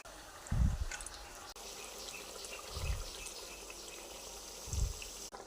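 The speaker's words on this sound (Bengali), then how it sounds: "এবার এর মধ্যে একটু জল নিয়ে বাটিটা ধুয়ে দিয়ে দেব।" Water from a rinsed bowl poured into a pan of frying pangas fish gives a watery splash and trickle, with three short, low thumps spaced a couple of seconds apart, close by and with no talking.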